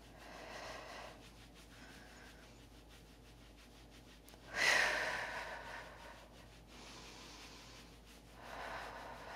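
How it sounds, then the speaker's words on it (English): Hands rub across the lower back over the sacrum, producing soft, intermittent swishing friction strokes with one louder, longer rub midway, close and quiet with no talk. "rub across the sacrum."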